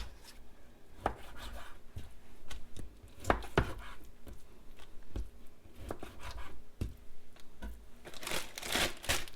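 A knife slicing meat into inch-wide strips on a cutting board, with steady close chopping taps in an uneven rhythm and a burst of crinkling plastic near the end.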